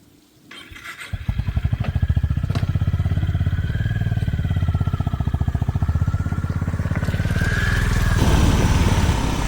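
A 2025 Honda GB350S single-cylinder motorcycle engine catches and settles into a steady, loud thumping beat, its pulses rising slightly in pace as the ride goes on, heard close with no speech.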